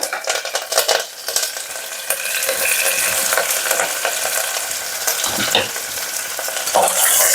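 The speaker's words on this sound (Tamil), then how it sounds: "இப்போ தாளிச்சிடலாம் இந்த பிரிஞ்சி இலையும் பட்டை இலை கல்பாசி இதை போடுறேன் அப்புறம் வெங்காயம் கருவேப்பிலை" Bay leaf, cinnamon, onion and curry leaves fry in hot oil with a loud, continuous sizzle and crackle, and a few stirring scrapes come early on. No one speaks.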